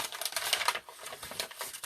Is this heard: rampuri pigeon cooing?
no